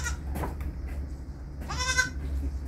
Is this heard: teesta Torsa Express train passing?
no